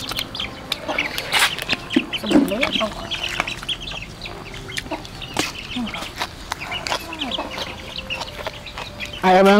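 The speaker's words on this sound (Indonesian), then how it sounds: "Ayam nih, ayamnya doyan sama mangga." Several chickens cluck and squawk nearby in busy, overlapping calls, with people talking intermittently and a loud burst of noise right at the end.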